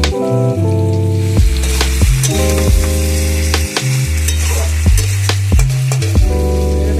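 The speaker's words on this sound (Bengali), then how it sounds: "চিকেনটাও অ্যাড করে দিচ্ছি।" Chicken frying in a pan for chilli chicken with tomato sauce, loud continuous sizzling broken by repeated stirring scrapes and clatters of a utensil, close up.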